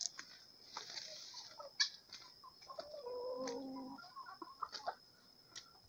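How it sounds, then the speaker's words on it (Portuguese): Hens being fed on a road cluck and murmur softly in short bursts, a few sharper squawks scattered through, fairly quiet and close, no talking. "Deixa eu chamar as galinhas."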